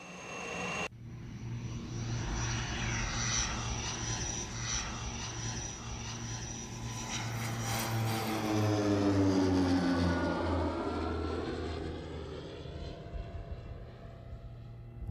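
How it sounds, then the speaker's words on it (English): A low, slow survey plane flies over terrain gathering aeromagnetic data, its steady engine drone sustained throughout with a rising and falling pitch as it passes fairly close overhead. "The plane flies low and slow over the terrain to collect data."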